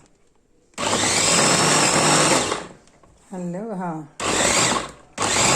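An electric blender grinding a smoothie roars loudly in several bursts separated by short pauses, with someone speaking briefly in one of the gaps.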